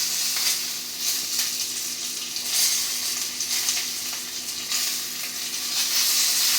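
Steak fat sizzles and crackles steadily in a hot pan as a sirloin steak sits on its side to crisp the fat, a continuous close frying hiss with no talking.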